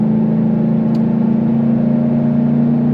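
Ford Shelby GT500 S197 Mustang muscle car engine held on throttle, a loud, steady droning roar with a strong low hum lasting throughout, no talk over it.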